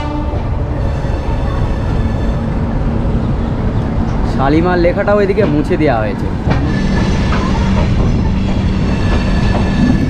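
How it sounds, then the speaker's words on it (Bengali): A Dhauli Express passenger train (12821, Shalimar to Puri) pulls out and runs with a steady, loud rumble that continues throughout the clip, while someone speaks over it partway through. "একেবারে রাইট টাইমে 9টা 15-য় ট্রেনটা ছেড়ে দিল"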